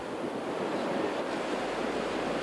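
Waves from the Pacific Ocean breaking on a beach east of Rockhampton, a steady broad wash of surf mixed with wind noise, heard alone.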